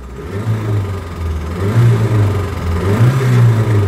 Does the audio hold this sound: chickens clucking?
no